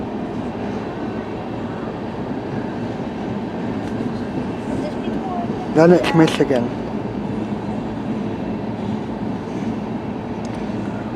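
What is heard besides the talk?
CN A482 northbound freight train with coal cars passing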